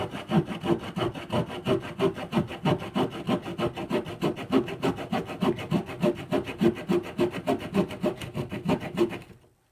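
A Schrade ST1NB multi-tool saw blade cuts through hard pine timber in fast, steady back-and-forth strokes, close and rasping, with no voices, ending abruptly.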